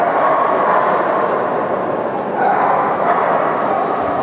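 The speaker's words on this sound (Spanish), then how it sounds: "Los perros también están nerviosos. Están excitados, saben que algo pasa" Excited dogs bark and yip continuously at a pet show breed contest, a dense, loud din of overlapping barks with hall crowd noise behind, steady throughout with no clear single bark standing out.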